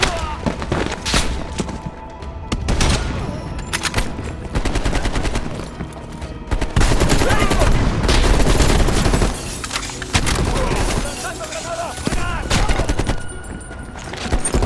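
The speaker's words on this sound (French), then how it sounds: "Il nous tire dessus!" Gunfire in a Call of Duty Cold War campaign mission: dense, loud bursts of automatic rifle fire and repeated shots with thumps and booms, almost continuous, with voices shouting faintly in the mix.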